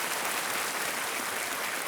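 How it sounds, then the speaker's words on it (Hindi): Studio audience applause on a televised quiz show set, a steady, dense wash of clapping throughout, loud and close with no talk over it. "तालियों के साथ अंजू जी का स्वागत"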